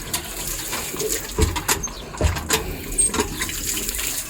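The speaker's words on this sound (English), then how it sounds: "He is taking shower right now here." Water splashes and trickles as a man showers outdoors in a Pakistani village, irregular close splashing and dripping with soft thuds, no talk.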